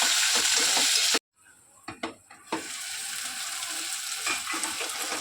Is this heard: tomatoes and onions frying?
yes